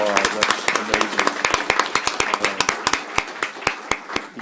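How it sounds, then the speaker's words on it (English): A small group claps in a brisk, uneven rhythm at a county commissioners' court meeting, sharp individual claps clearly distinct, continuing for a few seconds close by. "let's give her a round of applause"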